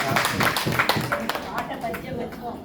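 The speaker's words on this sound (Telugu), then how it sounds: "క్లాప్స్" Scattered audience clapping at a golden jubilee address, a burst of claps fading toward the end, with speech mixed in.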